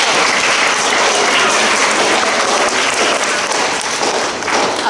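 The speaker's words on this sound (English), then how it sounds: "Should we give all of our golden children a big round of applause?" Loud, dense applause fills a school assembly hall as the golden book children are cheered, a steady wash of many hands clapping throughout with no pauses.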